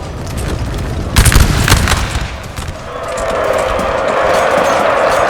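A ragged musket volley fires in Napoleon: Total War, a cluster of booming shots followed by the rising, distant roar of a battlefield.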